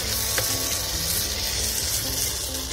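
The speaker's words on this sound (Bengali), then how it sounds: "মাংসটা দিয়ে একটু নাড়াচাড়া করার পর" Chicken meat stirred and fried in a pan for capsicum chicken masala, a steady close sizzle and crackle of hot oil with soft scraping of stirring throughout.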